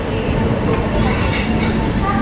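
The Ratnachal Express pulling out of Nidadavolu Junction, a loud, steady rumble of wheels and carriages with broadband roar, heard close from on board.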